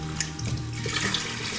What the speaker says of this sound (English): you're going to want to take the rest of the carton of vegetable broth and pour it right in.